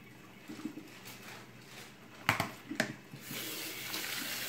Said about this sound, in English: Just rinse it out with